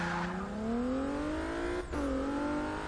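A twin-turbo Nissan Juke-R with a 3.7-liter engine from the 370 revs in Forza Motorsport 6, its engine tone climbing steadily, dropping sharply at a shift, then rising again, loud and close.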